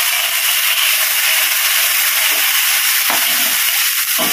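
Water poured into a hot pan of frying chicken with garlic, a loud, close, continuous steam hiss and sizzle with a few faint stirring knocks.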